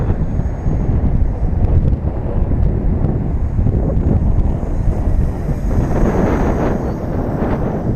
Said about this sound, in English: And like I said, it's ripping windy.